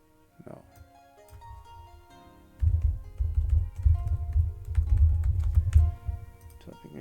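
Typing on a computer keyboard, a few scattered clicks at first, then a fast, dense burst of clattering keystrokes near and clear, trailing off into a couple of final taps.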